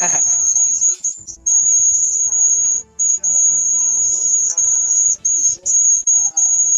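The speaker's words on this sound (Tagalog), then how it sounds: "Oo, may kuliglig nga dito sa bahay." Loud, close, continuous high-pitched chirring of crickets near a house surrounded by grass, with brief gaps in the trill and faint background sounds beneath.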